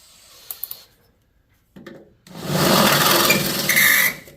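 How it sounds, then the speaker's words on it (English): A drill chuck on a garage project for a 1971 Colt Galant hood strut is twisted tight, giving a few short ratcheting clicks, then a brief grind and a longer, loud whirring rasp close by, with no talking. "Whoops, better tighten that chuck."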